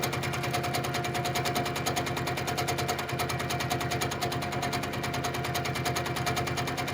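A sewing machine runs fast and steady during free motion quilting, its needle making a continuous rapid, even chatter that stays loud and close throughout with no talk.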